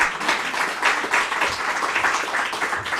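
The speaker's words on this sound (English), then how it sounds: "And you're clapping for yourselves, really," An audience at an immigration pilot program announcement applauds steadily, a dense wash of many hands clapping at moderate loudness for a few seconds.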